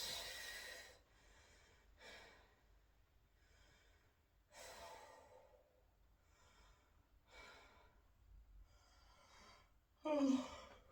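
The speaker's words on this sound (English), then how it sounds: "Nice deep breaths." Deep, rhythmic breathing during a boxing fitness workout, with slow inhales and exhales repeating about every two to three seconds, close and fairly quiet, ending in a sharper, louder breath.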